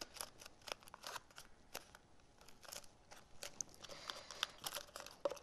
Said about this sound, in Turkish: bunları kestikten sonra üst kısmımızı makasla tekrar keseceğiz